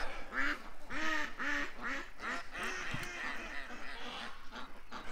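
A flock of ducks quacking loudly and repeatedly nearby, a rapid run of harsh nasal calls in the first few seconds that thins into scattered quacks and rustling.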